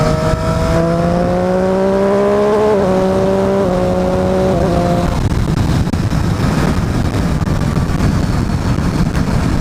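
A Triumph Street Triple 765 RS motorcycle engine on a test ride in track mode, holding a steady whine with stepped pitch changes like gear shifts, then fading into loud broadband wind rush, close and continuous.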